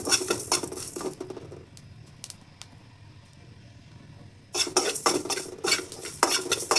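Fennel, fenugreek and cumin seeds dry roasting in a pan, stirred with a utensil: bursts of scraping and rattling at the start and end, with a quieter gap of faint taps between, close by and without talk.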